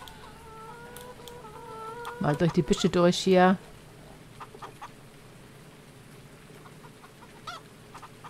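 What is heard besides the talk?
chickens clucking in Landwirtschafts-Simulator 19 video game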